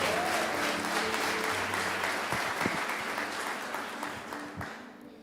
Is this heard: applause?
yes